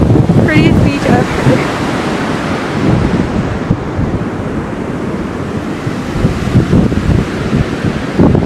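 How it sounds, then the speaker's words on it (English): Waves wash onto a beach in the Galapagos Islands, a loud continuous surf roar mixed with heavy wind buffeting, with faint voices briefly near the start. "So we're in the Galapagos Islands on the beach right now."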